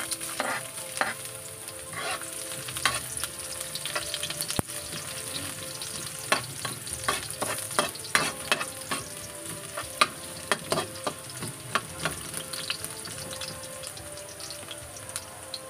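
Ginger sautés in a hot pan for sinigang, a continuous close sizzle with many sharp spatula taps and scrapes spread across the whole stretch.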